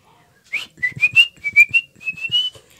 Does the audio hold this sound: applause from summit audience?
no